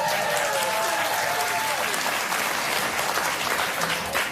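Studio audience applauding on a live morning talk show, a dense steady wash of clapping that continues throughout without fading.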